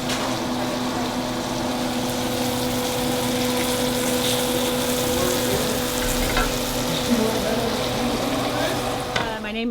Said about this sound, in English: going to start cooking the liver and the heart